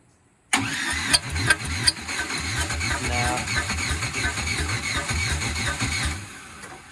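An old car engine, overheated earlier and reluctant to restart, cranks with a steady rhythmic churn for about six seconds after an abrupt start, loud and close, with occasional sharper bursts and no voices.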